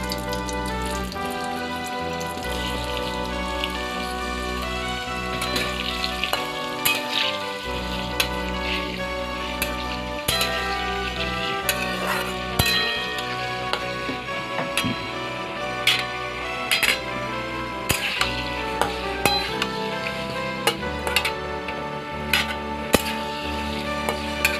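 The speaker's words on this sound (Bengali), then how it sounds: "ততক্ষণে আমরা মাংসের আলুগুলো ভেজে নেব কড়াইতে" Potatoes fry in a wok for a chicken curry, a dense crackling sizzle with frequent sharp pops and spatters, steady and moderately loud over a long stretch, with no voices.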